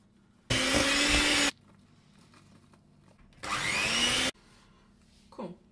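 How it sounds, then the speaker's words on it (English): An electric whisk beats softened frosting in two loud, short bursts of motorized whirring, each about a second long, separated by a quiet gap, with a faint scrape at the end. "And I'm just gonna whisk this."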